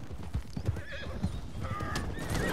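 An Arabian horse in a video game whinnies loudly over the rhythmic clip-clop of hooves, both close and clear with no talking.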